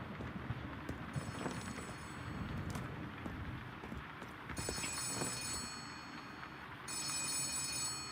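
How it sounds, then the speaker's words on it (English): An office phone rings in the video game Letter Lost, bursts of bright electronic trilling coming in and out over a soft background bed, fairly close and steady. "Yes, the office phone is ringing."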